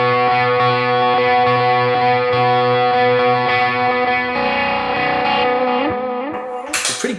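Distorted electric guitar played through a NUX Cerberus pedal into Amp Academy, loud sustained chords with a thick harmonic buzz that shifts midway and trails off before a sharp bright burst at the end.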